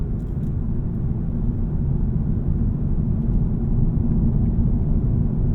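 Steady low road rumble and tire hum inside a moving 2025 Hyundai Elantra Hybrid Limited, constant and fairly loud, with no talking.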